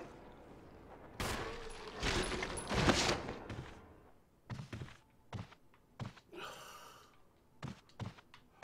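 Gunshots fired at zombies in a video game, a cluster of loud sharp bursts early on followed by scattered single thumping shots, with gasps and breathing mixed in.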